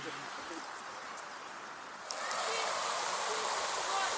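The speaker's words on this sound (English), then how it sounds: "A river flows through the park," A river flowing through a park lined with blooming daffodils gives a steady broadband rush of water, louder and fuller in the second half, with no voices over it.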